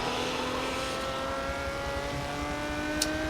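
A Ferrari GTO race car engine in the racing game Forza 7, holding a steady droning note at high revs, loud and continuous with no voices.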